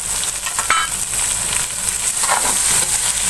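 Garlic and long-sliced onions frying in a pan, a loud, close, continuous sizzle with bursts of crackling and a few stirring scrapes, no talking.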